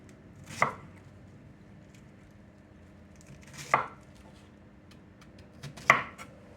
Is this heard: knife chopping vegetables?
yes